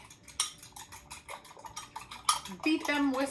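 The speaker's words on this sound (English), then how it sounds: "I'm gonna take a fork and I'm just going to whisk" Eggs whisked with a fork in a bowl make quick, uneven metallic taps and scrapes at close range, followed at the end by a voice speaking.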